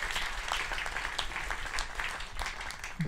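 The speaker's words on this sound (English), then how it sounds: "Please give them a round of applause." Audience applause for the singers at a memorial show in a Las Vegas community center, a steady wash of clapping from a crowd lasting a few seconds, with a louder burst at the very end.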